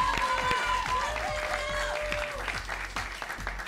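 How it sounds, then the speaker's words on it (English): Audience at a quiz bowl match between Crystal Springs and Gunn cheering and applauding, a steady wash of clapping that holds for several seconds. "they cheer"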